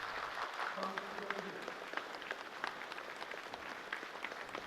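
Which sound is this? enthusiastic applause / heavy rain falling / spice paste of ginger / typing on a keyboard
enthusiastic applause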